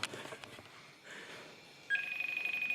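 A telephone rings late at night inside an old school building, a faint tone first then a steady electronic ringing loop near the end, with room noise and no speech over it.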